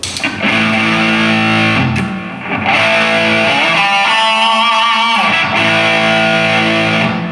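Electric guitar played through distortion, loud sustained chords and single notes ringing out alone, with brief pauses between phrases.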